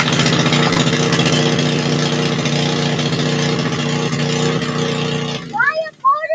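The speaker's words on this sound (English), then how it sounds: "Why your motor is so loud?" A loud motor runs steadily through backyard yard work, a dense mid-pitched drone that cuts off abruptly near the end, followed by a voice.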